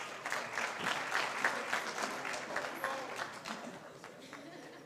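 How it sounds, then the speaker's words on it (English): Indoor audience at a Nairobi tech week event applauding, a dense wash of clapping that holds steady for several seconds and then gradually thins out. "Give him another round of applause"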